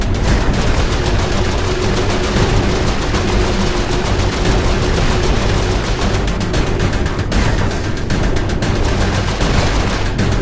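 Loud, dense, rapid gunfire from Saints Row IV hammers on without a break while the ship is defended, with bursts overlapping into a continuous barrage and no talking.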